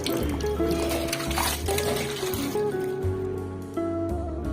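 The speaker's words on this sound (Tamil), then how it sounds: "நல்லா க்ளீன் பண்ண நண்டெல்லாம் தண்ணியில போட்டு நல்லா வாஷ் பண்றோம்." Cleaned crabs are washed in a vessel of water, with close splashing, sloshing and pouring sounds that swell and ease over a few seconds.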